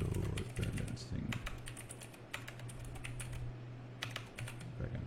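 Rapid bursts of typing on a computer keyboard, close and crisp, with short pauses between runs of keystrokes over a steady low hum.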